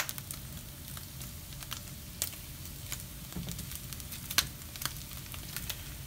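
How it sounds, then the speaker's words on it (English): Bacon crisps in a pan with a steady, quiet sizzle, broken by scattered sharp pops and crackles, close by and with no voices. "We're crisping it up."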